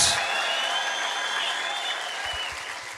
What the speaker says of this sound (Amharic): ክብር፣ እልልታ፣ ጭብጨባ፣ ጩኸት ለኢየሱስ